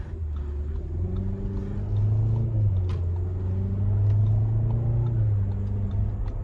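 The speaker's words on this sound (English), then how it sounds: "Transmission is buttery smooth with those shifts" An Audi Q7 Premium Plus driving on the road, a steady low engine drone rising and easing as the transmission shifts smoothly, with road and cabin rumble throughout and no talking.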